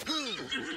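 A horse neighs in a video game, a single loud close whinny with a falling, wavering pitch that fills the whole short moment without any talk.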